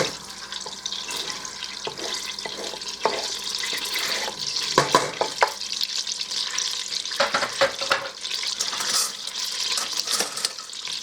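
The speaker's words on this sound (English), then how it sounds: "We are going to scrape our onions and our garlic right on in here." Onions and garlic scraped into a pot of hot bacon grease for a loaded baked potato soup, giving a steady close sizzle with bursts of crackle and scraping stirs throughout, no talking.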